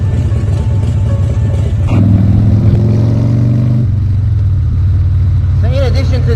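A BMW motorcycle engine pulls away hard, a loud mid-pitched rising rev that climbs then drops as gears change, heard close with wind buffeting and a voice speaking over it.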